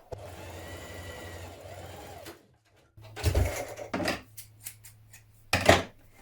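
A sewing machine stitches a fabric seam with a 1.5 cm allowance on a summer dress, running steadily for about two seconds before stopping, followed by a few louder handling bumps and clatters.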